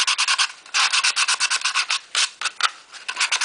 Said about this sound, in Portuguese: Lixa todos os lados, principalmente as beiradas